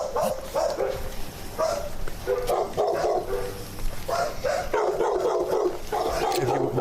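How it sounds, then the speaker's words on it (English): Several dogs bark repeatedly and overlap in a continuous loud chorus at a dog breeder's property, with the barking close and constant throughout. "There's dogs in here as well, right?"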